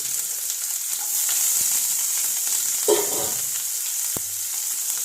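Sliced onion frying in oil on a hot griddle gives a steady, close sizzle throughout, with a brief stirring scrape midway and a soft knock near the end.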